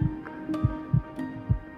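A human heartbeat throbs in a steady rhythm, with deep low thumps arriving in pairs about every half second, close and prominent over a faint background hum, no talking.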